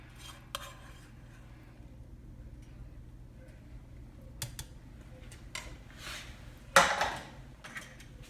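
Food is scooped and vegetables are added to a pot, making soft close scrapes and light clinks of a utensil against cookware, with one sharper clatter near the end over a low steady background hum.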